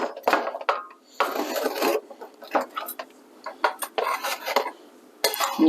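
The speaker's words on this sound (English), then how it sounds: "So we're just cutting it into strips." Knife cutting warm spiced fruit bars with cranberries, dates, raisins and nuts into strips in a pan, giving a series of close scraping and tapping strokes against the metal pan in irregular bursts.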